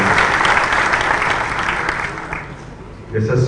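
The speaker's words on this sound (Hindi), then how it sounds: "जोरदार ताली बजा करके आज के समारोह में हम सब सहभागी हो जाए।" An audience at a tech growth conclave in Madhya Pradesh breaks into loud, sustained applause that fades briefly near the end before surging again.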